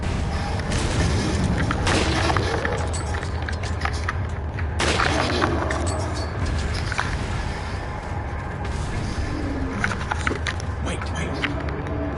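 Grenade blast in Resident Evil 4 Remake, a loud booming explosion with heavy low rumble and scattered thuds and rattles, set against game background noise and talk.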